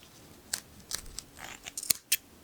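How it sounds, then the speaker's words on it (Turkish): Scissors snip through the yarn of a crocheted amigurumi basket handle: several crisp, quiet, close cuts in an irregular rhythm. "Kulpun içerisinde bakın şöyle çıkıp keseceğim."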